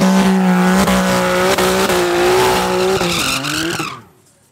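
Drag race cars at Midvaal Raceway launch with a loud, sustained engine howl whose pitch holds high and wavers down the strip, then drops away quickly into near quiet.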